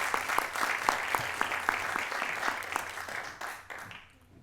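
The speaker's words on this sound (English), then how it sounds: "give him another round of applause as he leaves the building" An audience at a forum session claps in a brief round of applause, a dense patter of hands that fades out over a few seconds.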